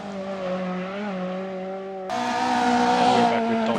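A tiny rally car engine in a video game, recorded in a stage of an Eastern European rally championship. It holds a steady, buzzing tone, then jumps abruptly to a louder, harsher, higher-revving note.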